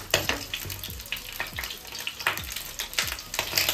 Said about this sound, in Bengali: এইভাবে আমি সবগুলোকে উল্টে পাল্টে ভেজে নিচ্ছি।